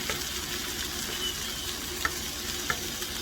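Fried taters and sausage crackle on a cheap cast iron cooking disk in a dense, steady, close sizzle, with a couple of light utensil clicks and no voices.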